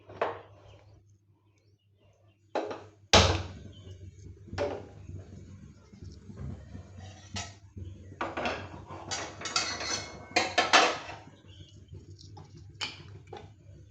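A wok is set on a stove for cooking chhana kofta curry, with sharp metallic clatters and clanks of pots and pans in irregular bursts, close by, between quiet gaps and faint background hum.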